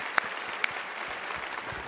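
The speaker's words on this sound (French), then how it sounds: "Oui, applaudissons-nous." Soft, steady applause from an audience at the ADISQ 2022 music awards gala, heard at a distance, with a couple of sharper claps standing out.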